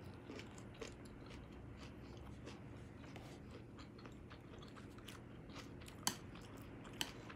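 Someone eats shrimp larb with crunchy fresh herbs such as green onion, coriander, lemongrass and kaffir lime leaves, giving quiet close chewing and crunching with a couple of sharper bites near the end.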